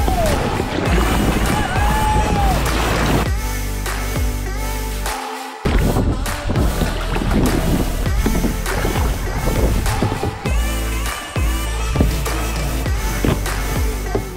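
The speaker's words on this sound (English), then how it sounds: "We spent the entire stretch there while I was only paddling on the right because we were getting pulled across to the right so much" A boat is paddled across Loch Earn during an adventure race, with steady water splashing and sloshing against the hull and paddle strokes over a continuous loud wash of water and wind, and a brief drop-out midway.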